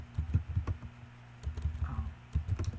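Bursts of computer keyboard typing, quick clustered keystrokes in three runs separated by short pauses, close and moderately loud with no talking, entered while logging volleyball rally data.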